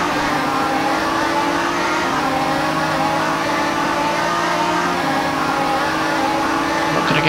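Race cars in an rFactor 2 endurance race drone along steadily, with close engines holding a continuous buzzing note throughout.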